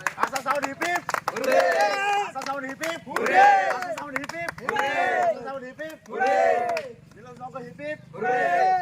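An outdoor club crowd in Pilkhuri applauds at a trophy and medal presentation, with scattered claps running under loud shouting and cheering voices across the whole stretch.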